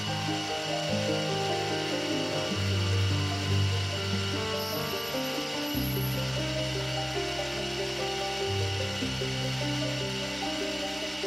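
A lathe chatters while cutting the cylinder cock arm shaft of a live steam locomotive, a continuous harsh tonal buzz whose pitch shifts in steps as the long overhanging workpiece vibrates, with no talk.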